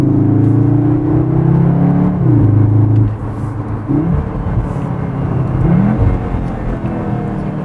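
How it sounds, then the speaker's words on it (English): A Cupra Formentor's turbocharged engine roars loudly and close from inside the car, a deep steady drone whose pitch rises and dips as it revs and eases off. "put an induction kit on your turboed car, and it's got that little induction roar"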